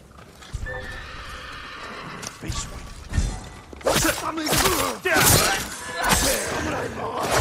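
In the video game Ghost of Tsushima, samurai horses at the stables neigh and whinny loudly, with clopping hooves and thumps, close and busy, while voices talk faintly in places.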